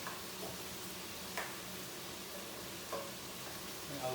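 Garlic frying in a hot pan, a faint steady sizzle with a few soft clicks and stirring taps, quiet and continuous.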